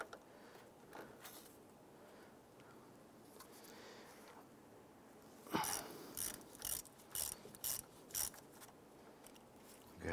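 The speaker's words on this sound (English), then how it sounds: "We're going to start by disconnecting the negative side here using an 8mm socket." An 8mm socket ratchet loosens the negative battery terminal on a 1995–2001 Ford Explorer, first quiet, then a run of about eight sharp, close clicking strokes in quick succession.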